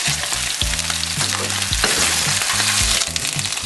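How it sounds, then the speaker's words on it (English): A sesame-crusted tuna steak sizzles loudly in a very hot pan, a dense continuous frying hiss broken by low rhythmic thumps and clanks from the pan, with no voices. "Sesame seed bits down, that'll sizzle and cook."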